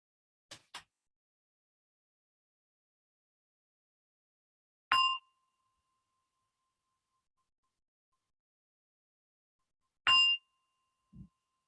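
A meditation gong is struck twice, about five seconds apart, each strike a bright metallic ring that fades quickly in an otherwise silent room. A few faint clicks come before and after.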